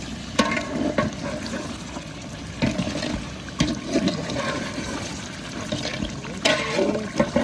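Water poured in a steady gushing stream into a large pot of chicken biryani being cooked Dindigul style, with occasional clanks of the vessel.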